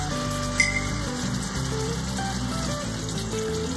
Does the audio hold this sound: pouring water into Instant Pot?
yes